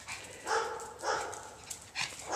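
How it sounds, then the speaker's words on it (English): A terrier barks several times in quick bursts, fairly close, with short pauses between the barks. "you hear Pistol Pete barking?"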